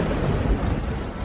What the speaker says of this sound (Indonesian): petir Dewa Ungu.